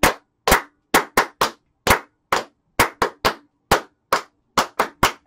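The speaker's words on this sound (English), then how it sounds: "we need five claps" Sharp claps ring out one after another at an irregular pace, each crisp and close, with short silent gaps between them and no voices.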